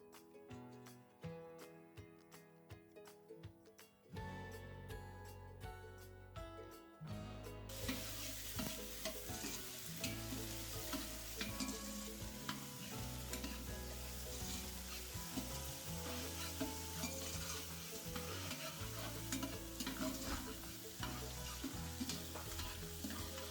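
Ginger garlic paste sizzles and crackles in a hot pan, the frying growing louder and busier partway in, with occasional stirring scrapes and no talking.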